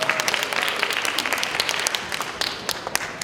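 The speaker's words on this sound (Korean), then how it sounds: "목사님 나오실 때 박수로 맞이해 주시기 바랍니다" A church chapel audience claps to welcome a pastor to the front, a dense burst of many hands close by that holds steady and then thins out slightly toward the end.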